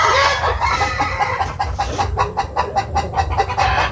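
Laying hens cluck and cackle close by in quick, irregular bursts, with a busy henhouse clamor behind them.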